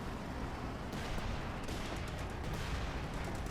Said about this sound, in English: And there we go, we got the howitzer firing.